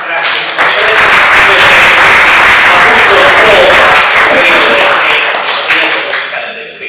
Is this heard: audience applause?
yes